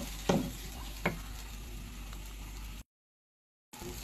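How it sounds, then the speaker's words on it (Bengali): Shrimp bhorta with coriander leaves stirred in a pan: a faint, steady sizzle broken by two sharp spatula knocks early on, then a brief gap of silence before the soft frying resumes. "ধনিয়া পাতাটা দিয়ে নেড়ে চেড়ে আমি নামাই ফেলব।"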